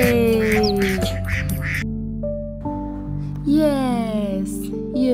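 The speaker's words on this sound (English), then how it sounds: "Five baby duck having fun." Baby ducks quack repeatedly in a close, loud series of bright calls, with a sung or spoken voice running underneath.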